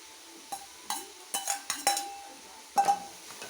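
Garlic and finely chopped carrots are mixed in a pan with a spoon, giving about eight close metallic clinks and scrapes against the pan in an irregular rhythm over a quiet background.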